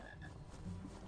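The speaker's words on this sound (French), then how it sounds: "Une grenouille." Frog croaking in the PC Harry Potter and the Philosopher's Stone game, a low, continuous croaky rumble that fills the whole short stretch at moderate volume.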